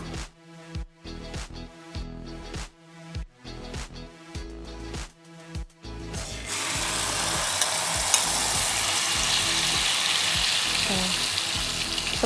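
A run of evenly spaced knocks and taps gives way to a loud burst of sizzling as an egg and coconut mixture hits hot oil in a large nonstick pan, the crackling hiss then holding steady and close.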